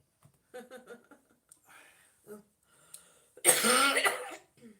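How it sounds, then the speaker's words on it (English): A few soft, short throat noises lead into one loud, harsh cough close by, followed by a small trailing sound. "get rid of this cough"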